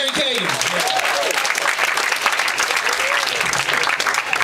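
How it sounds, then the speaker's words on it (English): A comedy club audience at the Punchline and Cobb's applauds loudly and continuously as a comedian is welcomed, with scattered cheers and whistles in the crowd. "Thanks for clapping"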